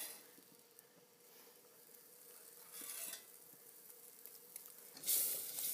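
A grilled cheese sandwich sizzles faintly in a pan as it is turned over, a soft steady crackle with a brief scrape and a sharper burst of hiss near the end.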